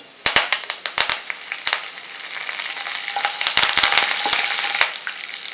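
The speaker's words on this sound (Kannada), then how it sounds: "ಕಡಲೆಬೇಳೆ ಮತ್ತು ಕಡಲೆ ಬೀಜ ಎಲ್ಲ ಚೆನ್ನಾಗಿ ಫ್ರೈ ಆದಮೇಲೆ ಫ್ಲೇಮ್ನ ಕಡಿಮೆಗಿಟ್ಟು ಒಂದು ಮೂವತ್ತು ಎಲೆ ಹಾಕ್ತೀನಿ ಇದಕ್ಕೆ" Leaves hit hot oil with chana dal and peanuts over a low flame, bursting into sharp crackles and pops that settle into a loud, steady sizzle.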